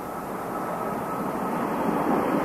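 Space Shuttle Discovery rolling out on the runway after the first night landing at Kennedy Space Center, a loud steady broadband roar that swells slightly toward the end.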